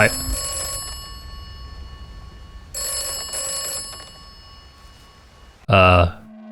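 An old telephone rings inside a bunker in the game Atomfall, two bright metallic bell bursts a second or so apart, followed by a short loud burst near the end, over faint low ambient hum.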